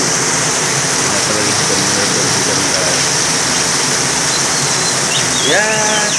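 Heavy rain pours down steadily around a house in a continuous dense hiss, with faint bird chirps near the end.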